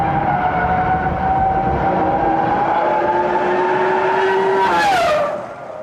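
A Formula One racing car drives past with a loud, sustained engine whine that holds a steady pitch, then drops sharply as it passes and fades away near the end.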